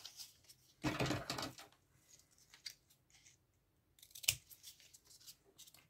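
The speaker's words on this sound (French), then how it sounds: "Donc moi je vais couper les bords." Scissors snip along paper edges while trimming a scrapbook album cover, one loud close cut followed by softer scattered snips and a sharp click near the end.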